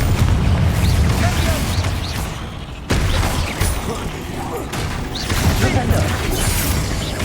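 Confringo fire spell blasts in Hogwarts Legacy, a loud sustained crackle of combat with a sharp burst near the middle and further booms and clanks, speech mixed in.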